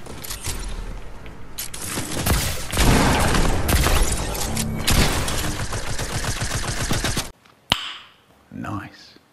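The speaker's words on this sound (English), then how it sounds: "gotta love that SMG" Rapid SMG gunfire in the Fortnite video game, dense bursts of loud close shots running almost continuously for about seven seconds, then a brief gap and a couple of short sharp sounds near the end.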